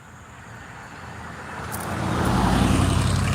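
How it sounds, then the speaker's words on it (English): A car passes along a road near a fence-building site, its engine and tire rumble growing steadily louder and closer over a few seconds, heard alone with no talk. "this car goes by"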